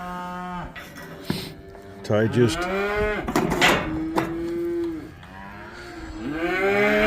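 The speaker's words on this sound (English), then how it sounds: "8 or 10 cows in the feed barn" Several cows moo loudly and repeatedly in a feed barn, long low calls overlapping one another up close, with a brief word spoken among them.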